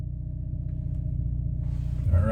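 A Hyundai Kona N pulls away on the road, its low engine rumble steady and close from inside the cabin, swelling slightly near the end as it accelerates.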